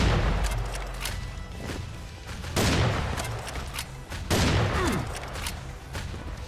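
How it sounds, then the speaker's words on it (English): A boss in the Serious Sam Minecraft game looses a loud, dense barrage of purple projectiles, a sustained rapid booming fusillade in repeated bursts with no talk. "the last attack is this, which is like a barrage of purple reptiloid projectiles"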